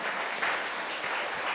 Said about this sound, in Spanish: ¿Cuánto le damos ese fuerte aplauso al Señor?